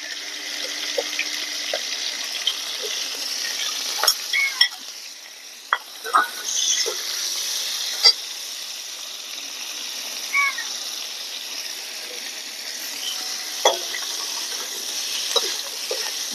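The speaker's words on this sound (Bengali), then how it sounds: "এবার তেলের মধ্যে আলু এবং ফুলকপিগুলো দিয়ে দেবো।" Potatoes and cauliflower fry in oil with panch phoron, giving a steady, bright hiss of sizzling throughout, broken by occasional clinks and scrapes of a utensil against the pan.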